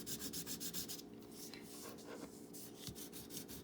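Crayon rubbed over paper laid on the raised underside of a leaf, quick rhythmic scratchy strokes in bursts with a brief pause in between, close and fairly quiet.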